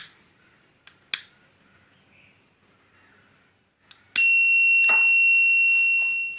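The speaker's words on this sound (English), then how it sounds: "Buzzer is beeping, and LCD display the fire alert message" A buzzer on a gas detection robot sounds a fire alert, a loud continuous high electronic tone that starts abruptly and holds steady, preceded by a few faint clicks and taps in a quiet room.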